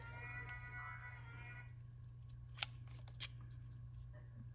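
Scissors cutting small round corners on a paper sticker, two distinct crisp snips near the middle of a quiet stretch with a low steady hum in the background.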